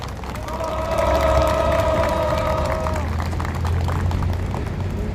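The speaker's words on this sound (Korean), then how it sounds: "다시 한번 함께해 주신 우리 동지들께 힘찬 박수 함성 부탁드리겠습니다" Crowd of union members at an outdoor press conference for a sit-in protest, loud applause and cheering swelling and holding for several seconds, with an undercurrent of voices and a low steady hum.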